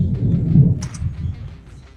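Thunder rolls as a deep, loud rumble during a storm in the southern United States, sustained for a couple of seconds and fading, with no talking.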